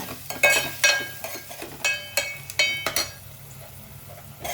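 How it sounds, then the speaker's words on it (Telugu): Onions stirred and frying in a pan until brown for a dry fish and tomato curry, with repeated sharp scrapes and clinks of a utensil against the pan over a low background sizzle. "ఇప్పుడైతే ఇవి బాగా వేగనిద్దాము బ్రౌన్ కలర్ వచ్చే వరకు ఉల్లిపాయలు"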